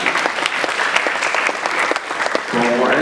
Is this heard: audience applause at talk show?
yes